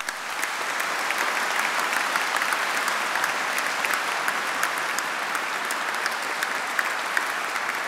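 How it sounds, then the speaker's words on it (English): Graduates and guests at an Edinburgh Napier University ceremony clap enthusiastically in a sustained, dense burst of applause lasting about eight seconds, loud and even throughout, with no speech over it. "Give yourself a big round of applause"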